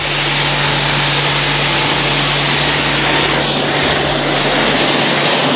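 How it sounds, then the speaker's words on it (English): Water spray rinsing an Urban Defender wheel ahead of ceramic coating: a loud, steady broadband hiss with a constant low motor hum underneath, running unbroken for the whole stretch with no voices. "Going to give this a rinse off before we rotate the wheel and or before we spin the"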